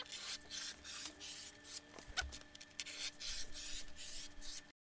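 Leather is cut into strips for belt liners, giving faint, rhythmic rubbing and scraping strokes at close range, repeated several times in quick succession.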